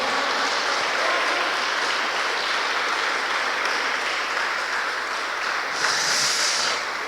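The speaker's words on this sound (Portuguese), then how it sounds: "Aplauda o Senhor." A church congregation applauds steadily together, a dense, continuous clatter of many hands that stays loud and even throughout with no break.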